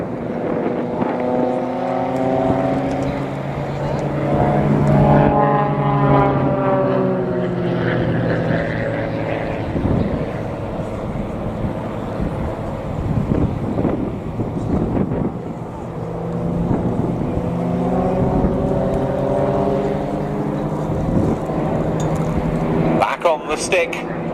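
Propeller aerobatic display aircraft pulling up into a formation loop at an air show, a steady droning engine whose pitch rises and falls as the planes climb and curve, heard under continuous commentary.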